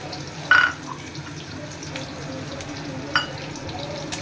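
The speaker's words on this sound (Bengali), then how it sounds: "কুচি করে রাখা পেঁয়াজগুলোকে এবার এই তেলের মধ্যে দিয়ে দেব।" Chopped onions hit hot oil in a wok with a steady close sizzle and frying hiss, two brief louder bursts as they land and are stirred.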